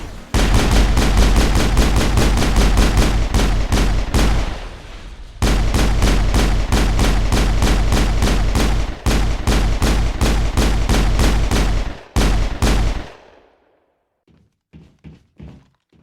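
Loud, rapid bursts of automatic gunfire from the video game Mass Effect hammer out in long strings with short pauses, then break into a few scattered shots before falling silent.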